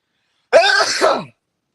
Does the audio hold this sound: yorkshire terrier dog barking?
no